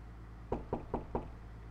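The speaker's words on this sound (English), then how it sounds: "I am woken up by the sound of knocking on my door" Four evenly spaced knocks on a bedroom door, crisp and fairly close, over a low steady background hum with no voices.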